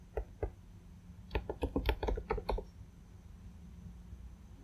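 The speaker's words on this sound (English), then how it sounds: "here I will type the branch name which I want to create" Two isolated key taps are followed by a quick burst of several keystrokes on a computer keyboard, close and quiet, then near silence.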